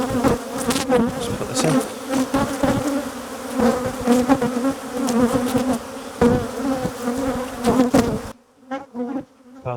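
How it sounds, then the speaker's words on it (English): Angry, queenless honey bees buzz loudly and continuously around an opened hive, a dense close swarm drone with sharp individual passes, briefly quieter near the end; a person speaks a few words over it. "Look at these bees attacking bees."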